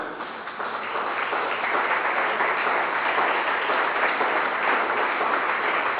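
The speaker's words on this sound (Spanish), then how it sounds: "El aplauso me está diciendo que como que hay duda" Steady applause from a congregation during a sermon at a Foursquare Christian church, a continuous even wash of clapping sustained throughout at moderate loudness.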